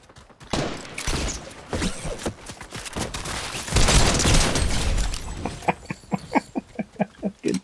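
Teammates' gunfire in a video game crackles as a dense, loud fusillade for several seconds, then settles into a steady run of evenly spaced sharp shots near the end.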